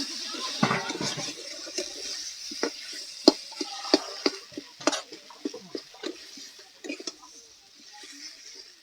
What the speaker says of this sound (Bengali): এবার নেড়ে চেড়ে মিশিয়ে নেব